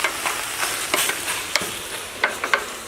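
Lemongrass chicken, reported as ovaries and fallopian tube, stir-fries in a pan, giving a steady sizzle broken by scraping stirs and a few sharper clinks of the utensil, fairly quiet and without talk.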